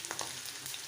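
Chana dal, dry red chillies, mustard seeds and curry leaves fry in hot oil for a mango-chilli pickle tempering, giving a soft, steady sizzle with a few faint crackles over a brief moment.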